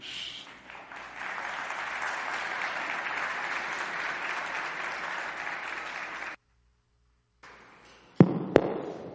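Congregation applause at a church gathering greeting Óscar Ramírez, a sustained loud wash of many hands lasting several seconds, then a brief silence and a few sharp, isolated claps or knocks near the end.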